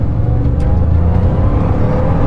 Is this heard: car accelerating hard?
yes